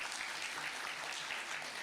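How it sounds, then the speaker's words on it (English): Steady applause from a conference audience fills the room right after a stage performance, dense and even clapping throughout with no voices on top. "One more round of applause, everyone."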